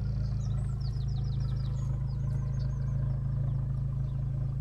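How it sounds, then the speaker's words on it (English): An Abarth 595 Competizione Black with 180bhp and a quad Monza exhaust idles steadily, a deep, even rumble close by, while birds chirp faintly in the background. "as you can hear, it's got the quad Monza exhaust system."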